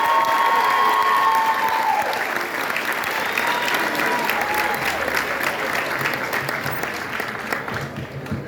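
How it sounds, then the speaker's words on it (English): Graduation audience claps for an outstanding electrical trades student, a dense even wash of applause with a brief cheer at the start, gradually thinning toward the end. "Let's give him one last round of applause, your electricity student."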